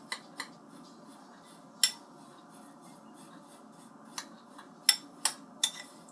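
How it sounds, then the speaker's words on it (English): A spoon stirs dry milk into hot chocolate mix, with scattered bright clinks and scrapes against the container over a quiet background, some taps coming in quick clusters. "just try to use a spoon to try to make sure there's no like"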